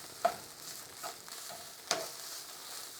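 Egg fried rice sizzles faintly in a hot pan while being stirred, with a few distinct spatula scrapes and taps spaced about a second apart over a low steady frying hiss.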